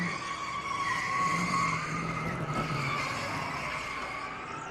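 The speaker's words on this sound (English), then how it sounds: "Marcus Ambrose is sliding." A NASCAR race car slides on track with a sustained, wavering tire squeal over a steady engine drone, loud and continuous throughout.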